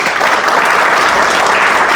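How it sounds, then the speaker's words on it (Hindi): Loud, dense applause from a large crowd at a company business event, continuous clapping filling the whole moment close by. "तो एक बार जोरदार तालियां होनी चाहिए कि नहीं होनी चाहिए कंपनी के लिए?"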